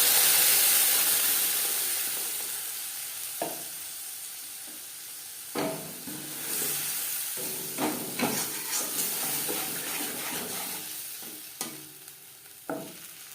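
Panch phoron seeds frying in hot oil in a kadai, a steady sizzling hiss with scattered stirring clinks and scrapes, no voices.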